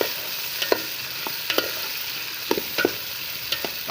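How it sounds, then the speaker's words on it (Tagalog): Potatoes tossed into a frying pan while cooking chicken adobo, giving a steady soft sizzle with scattered stirring clinks and scrapes spaced through the clip, moderately close. "Lagay ko na ating patatas guys."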